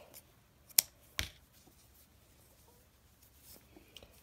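Scissors snip through cotton yarn at the end of a crocheted hand towel: two sharp, close cuts in quick succession, then quiet handling noises.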